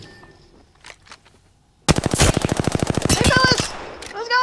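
Rapid automatic gunfire in the Apex Legends video game bursts in loudly after a quiet moment, a dense rattling stream of shots close up, followed by a few trailing electronic weapon tones.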